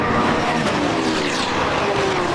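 GT race cars roar past on the Donington circuit in the UK, a loud, dense engine drone with rising and falling pitch as they sweep by.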